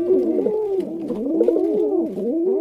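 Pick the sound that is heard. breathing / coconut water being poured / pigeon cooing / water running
pigeon cooing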